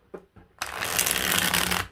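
A deck of tarot cards is shuffled in one quick, crisp riffle that runs about a second after a couple of soft taps, close and alone.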